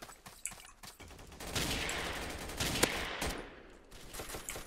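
Rifle gunfire in the Roblox shooter Arms of Solitaire: scattered sharp shots early, then a denser burst of firing with one crisp crack near the middle, moderately loud with no talk.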